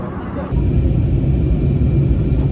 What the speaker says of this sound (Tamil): 850 km/h ஸ்பீடில் கிரவுண்ட் ஸ்பீடில் வந்து போகுது ஃப்ளைட்.